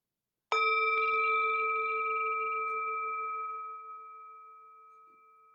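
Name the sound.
meditation bell ringing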